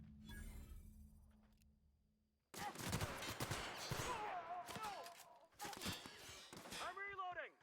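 Shotgun fire in The Outer Worlds, a series of loud, sharp blasts in two clusters with echoing tails and metallic clatter between them, following a quieter stretch of background sound.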